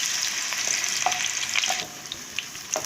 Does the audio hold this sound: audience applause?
no